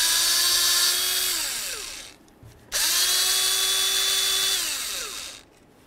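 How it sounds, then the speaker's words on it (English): A cordless drill with a Torx bit backs out the throttle position sensor mounting bolts on a Chevy S-10, two loud sustained whirring runs that wind down in pitch, separated by a brief pause, with no voices. "I'm just gonna go ahead and use my Torx bit and remove both bolts."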